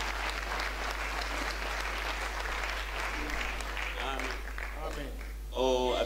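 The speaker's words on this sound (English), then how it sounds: "Give the Lord a round of applause." A church congregation claps together in a steady, moderately distant wash over a low constant hum, with voices rising and talking near the end as the clapping winds down.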